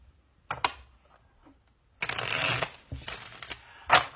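Tarot cards being shuffled by hand, a few short riffling bursts and rustles, close and fairly loud, with brief pauses between them and no speech.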